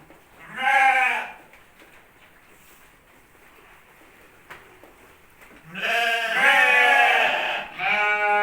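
Sheep bleating in a breeding pen, two loud nearby bleats separated by a quiet gap, the second long and wavering, followed by a shorter cry, no talking.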